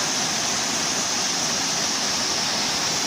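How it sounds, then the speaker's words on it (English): Waterfall at a state park, pouring as a constant, dense rushing roar with no voices or breaks. "we came across waterfalls."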